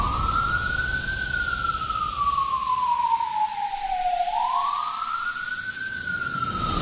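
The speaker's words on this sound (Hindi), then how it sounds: "तभी वहां सायरनक आवाज गूंजने लगी और पुलिस की गाड़ी आई।" A single slow siren wail rises and falls in a long smooth sweep over a steady background hiss, fairly loud and continuous.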